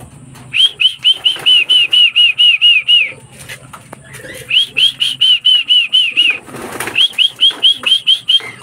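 Young racing pigeons flap into the loft in three bursts of rapid, loud wingbeats, each a quick run of whistling flutters with short pauses between them.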